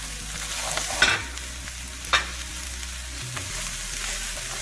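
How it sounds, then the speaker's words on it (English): Onions sautéing in a pan for Haitian patties: a soft, continuous sizzle with a couple of sharp utensil clinks, no voices. "I'm just gonna saute it until it's tender"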